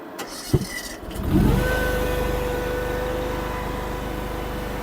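A Chinese mini skid steer engine settles into a steady idle after a couple of brief clunks, giving a close, even low drone that holds constant to the end.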